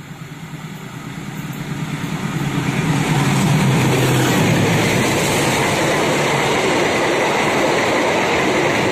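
The Sri Tanjung passenger train rumbles past through a dense residential area, building from a distant hum to a loud, steady roar of rolling wheels that holds for several seconds.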